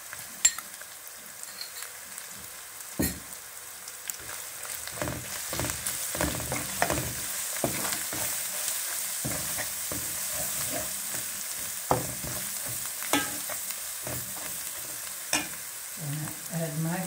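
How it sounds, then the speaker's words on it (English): Ground coriander and cumin fry in hot oil for a lamb curry, a soft, steady sizzle with repeated light scrapes and taps of a spoon stirring in the pot, no voices present. "Now I add my dhania and jeera powder."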